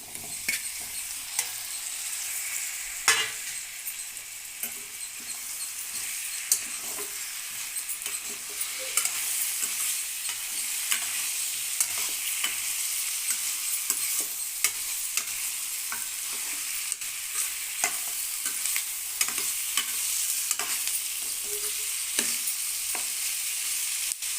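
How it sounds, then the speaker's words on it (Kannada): Chicken pieces dropped into hot tempering oil with turmeric for a pepper chicken fry, giving a steady close sizzle with repeated spoon scrapes and stirring clatter throughout, with no voices. "ಚಿಕನ್ ಹಾಕ್ತಾಯಿದ್ದೀನಿ ಒಗ್ಗರಣೆಗೆ."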